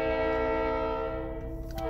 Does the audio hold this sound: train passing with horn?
yes